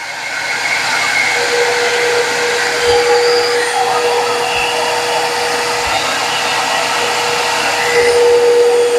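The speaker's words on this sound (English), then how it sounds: "Part of the roof, we're gonna router the edges." A router cuts the edges of a wooden roof piece for a robin bird house, giving a loud, steady whine that runs unbroken and up close for the whole stretch.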